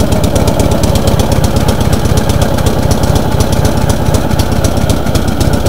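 A Gravely 818T riding mower with an Onan engine idles after a cold start, a loud, steady, close-up chugging rumble with an even knocking pulse and no talk.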